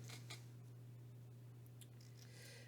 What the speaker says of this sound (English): And I'm just going to cut 2 4-inch strips.